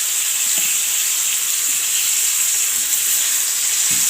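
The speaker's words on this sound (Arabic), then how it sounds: "اديها بقى تشويحه حلوه كده تاخد لون حلو معايا" Veal seasoned with salt and pepper sautéing in a hot pan, giving off a steady, loud sizzle and hiss that runs unbroken from start to finish with no talking.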